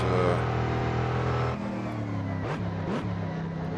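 A racing game app's car engine roars steadily on a lap of the Nürburgring Nordschleife, with high revs dropping at about one and a half seconds, then two quick rev blips and gear changes, loud and close.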